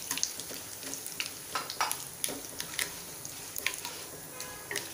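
A cardamom pod and bay leaves sizzle steadily in hot oil that already holds cumin, stirred in a pan on low heat, with a soft constant hiss and scattered small clicks and scrapes of the spoon.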